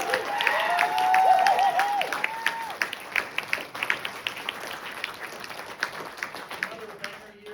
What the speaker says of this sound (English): we need our biggest round of applause for the person who put all of this together